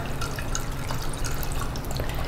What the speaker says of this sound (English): All you do is take the first colander, pour into that. It's gonna pour down through the second one.